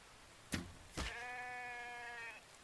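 A sheep in a survival video game bleats once, a single drawn-out nasal baa following two short thumps, heard clearly at moderate volume with no talking.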